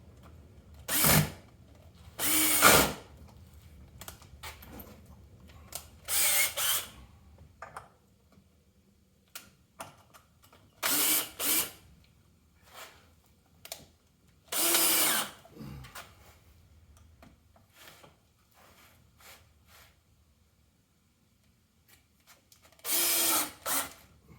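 A power drill drives Torx screws into pre-drilled holes in a wooden double dog dish holder, sounding as several short whirring bursts of a second or two, spaced apart with quiet pauses between them, close and fairly loud.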